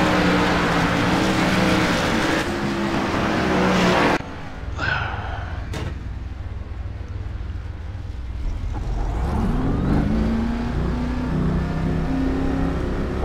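A race car engine in a sim racing video game drones and revs continuously, dropping abruptly partway through and then climbing again in rising, shifting pitch, loud and close without talk.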